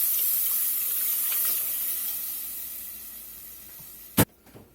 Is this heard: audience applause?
no